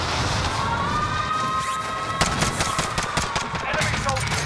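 Rapid automatic bursts from an AK74u rifle in the Warzone video game crackle in dense, fast volleys midway through, layered over a loud, busy game soundscape.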